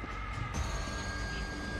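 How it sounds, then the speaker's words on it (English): A classic telephone bell rings in the video game Back 4 Blood, a bright, continuous metallic trill that carries on steadily at moderate volume with no talk. "The classic phone ring for reals."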